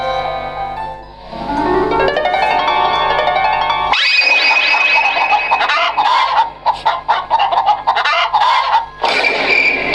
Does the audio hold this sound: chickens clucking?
yes